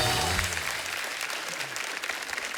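Studio audience on a comedy talk show giving loud applause for the guests, a thick sustained roar of clapping with some low voices and hints of music underneath.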